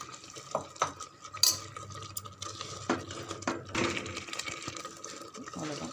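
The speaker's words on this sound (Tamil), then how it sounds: "நம்ம பொடியை வந்து அப்படியே சேர்த்துடலாம். நல்லா கலந்து." Ground coconut and spice powder being stirred into a thick South Indian dish, with repeated scraping and clinking of a spoon against the pot, a steady busy rhythm at close range over a faint hum.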